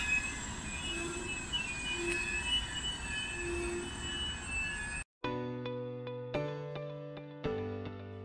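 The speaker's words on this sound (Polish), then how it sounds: "Odjeżdżamy ze stacji Katowice." An IC Silesia intercity train departing Katowice station, heard from onboard as a steady rumble with faint wheel squeal, then cut to a loud chiming multi-tone station signal.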